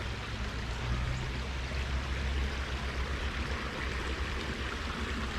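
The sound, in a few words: creek water flowing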